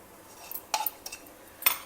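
Raw mango pickle masala with powdered mustard, methi and hing being stirred in a pan: quiet scraping with a few sharp spoon clinks against the metal, spaced irregularly and close up.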